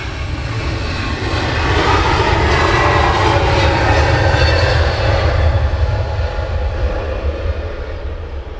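Aircraft engines roar at London Luton Airport early in the morning, a loud, sustained jet rumble that holds steady for several seconds before easing slightly.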